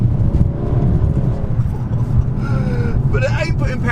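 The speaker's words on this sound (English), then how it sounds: "Like the sound of this car, we're battling for traction." A car engine strains as it battles for traction, a loud close growl with the pitch rising and warbling toward the end of the short burst, while a person talks over it.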